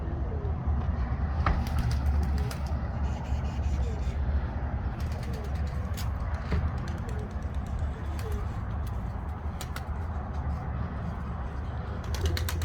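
Soft pigeon cooing and a few brief wing flutters over a steady outdoor rumble, with occasional mechanical clicks and voices nearby.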